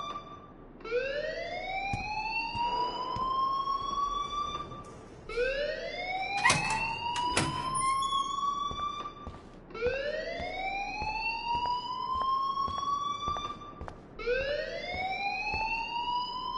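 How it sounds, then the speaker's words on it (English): A fire alarm in the video game Life is Strange wails in loud, steady cycles of rising, siren-like sweeps, repeating about four times with no voices over it. "please turn off that alarm since that's your job"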